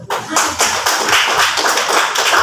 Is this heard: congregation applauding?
yes